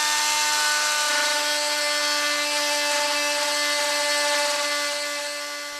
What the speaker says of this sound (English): I can now drill through using the hole on the front on the square as a guide